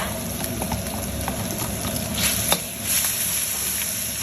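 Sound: soy-sauce marinated pork frying in a pan

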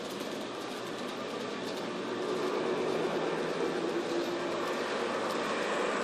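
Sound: model train running on indoor track

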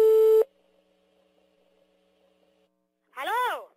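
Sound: telephone call tone while dialing

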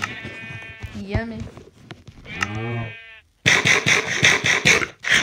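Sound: sheep bleating in Minecraft video game

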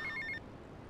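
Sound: telephone ringing with a mission phone call in Grand Theft Auto: Vice City video game

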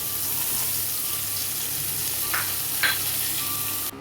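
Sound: chopped onions frying in a pan

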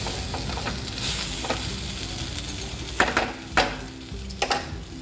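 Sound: fried semolina added to pan, sizzling and stirring

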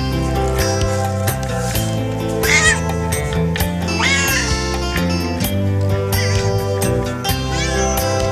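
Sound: cat meowing

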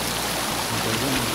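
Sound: waterfall at Mandala Falls

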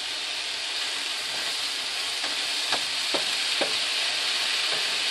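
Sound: broccoli stir frying in a pan for Kung Pao

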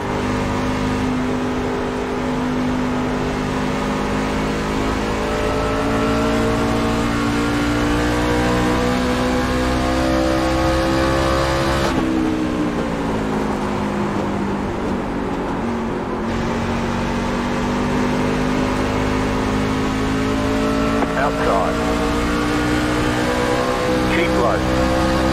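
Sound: race car engine in iRacing video game at Phoenix

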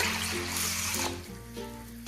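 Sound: water poured into bowl

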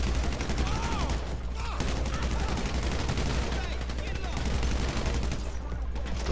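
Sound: gunfire in a video game

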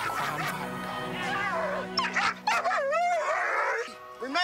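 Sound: dog barking

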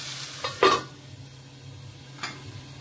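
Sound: chicken stew frying in a pan with a lid

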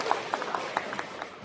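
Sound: audience applause at crosstalk show

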